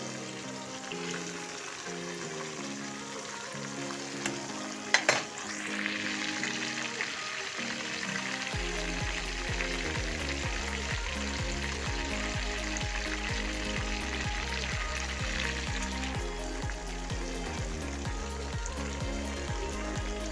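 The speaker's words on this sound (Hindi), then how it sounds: "अब ये मछली फ्राई हो रही है मेरी अभी" Fish fillets shallow-frying in hot oil in a home kitchen, with a steady, dense sizzle that carries throughout, a brief clatter partway in, and a low rhythmic thumping underneath during the second half.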